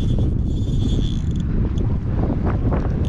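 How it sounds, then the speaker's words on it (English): Strong wind buffets the microphone beside Henry's Lake, a loud, continuous low rumble with gusty surges, together with faint creaking and mechanical clicks. "Wow, that wind's picking up good, guys."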